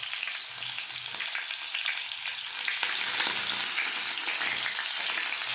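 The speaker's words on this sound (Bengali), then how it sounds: "আমি একটু পেঁয়াজটা ভেজে নিচ্ছি।" Onion frying in a hot pan makes a loud, dense sizzle that holds steady and grows fuller midway, with faint stirring scrapes running through it and no voices.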